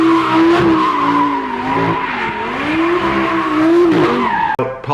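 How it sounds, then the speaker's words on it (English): A supercharged Lamborghini Huracan drifts with its tires squealing continuously in a wavering, high-pitched skid over a roaring engine, loud and close, ending with a brief thump. "We're talking about like sideways, tire slaying, drifting,"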